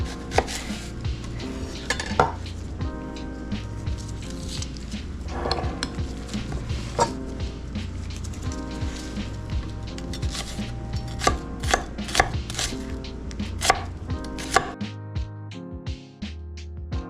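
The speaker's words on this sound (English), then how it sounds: "I'm just gonna cut a little piece of it." A knife chops through an onion on a cutting board, with repeated close, uneven knocks and thuds under faint background music that plays throughout.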